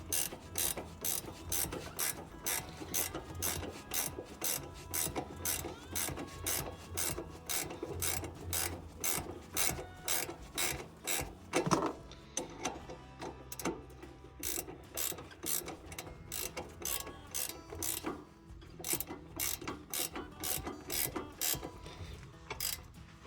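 A ratcheting wrench clicks rapidly and repeatedly while tightening hardware on the steering of a Cub Cadet 105 garden tractor, a close, steady run of sharp ratchet bursts with a brief pause midway.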